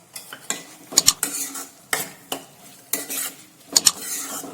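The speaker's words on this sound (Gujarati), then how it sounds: "2 થી 3 મિનિટ આપણે આ રીતે ટામેટાને સાંતળીશું" Metal utensil scraping and stirring tomatoes sautéing in a pan, with repeated clinks and scrapes at an uneven rhythm over a soft background, no talking.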